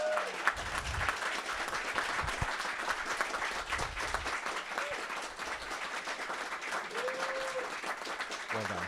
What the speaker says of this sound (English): So a big round of applause to Ron.